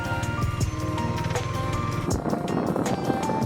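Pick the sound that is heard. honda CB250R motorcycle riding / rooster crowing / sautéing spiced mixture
honda CB250R motorcycle riding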